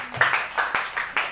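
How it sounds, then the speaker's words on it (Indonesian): A church congregation claps to welcome a new member, giving a few loose bursts of hand claps at an uneven rhythm, fairly close and moderately loud, with no speech over them. "Tepuk tangan dulu dong."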